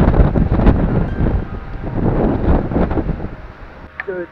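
Cold, blustery wind on the Brocken summit on New Year's Eve buffets the microphone in strong, continuous gusts with low rumbling, easing slightly near the end.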